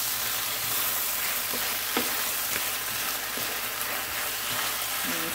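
Beef and broccoli sizzling steadily in a hot pan as oyster sauce is stirred in, with soft scraping and occasional clicks under a constant frying hiss, no speech.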